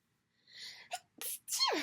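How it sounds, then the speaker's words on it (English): A single sharp sneeze with a breathy wind-up, a quick catch, and a loud forceful burst at the end, close to the microphone. "I have a sneeze coming"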